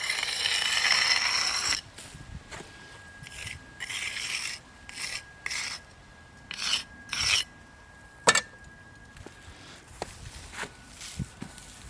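Stiff brush sweeping freshly pointed brickwork mortar in circular motions: repeated short, gritty scratching strokes close by, separated by brief gaps, after an opening stretch of continuous rasping.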